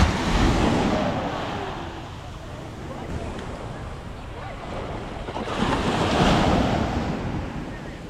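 Ocean waves wash onto a sandy coastal beach, a broad steady surf roar with swells rising around the start and again near the end, mixed with wind buffeting the microphone.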